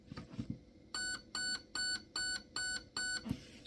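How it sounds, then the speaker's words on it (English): Raven Evolution Furion ETU sounding its five-beep signal for five-round burst mode: a run of evenly spaced, identical bright electronic tones, close and clear, with faint handling clicks before and after. "Five beeps is 5 round burst."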